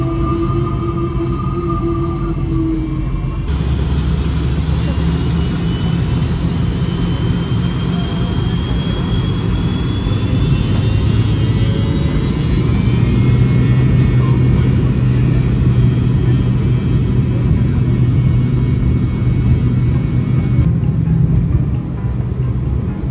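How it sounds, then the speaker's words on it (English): Cabin view of an MD-80 airliner on its takeoff roll and climb-out from a runway in La Romana: loud, sustained jet engine roar and rumble building and holding, with whining tones over a steady low drone. "a takeoff on board an MD-80"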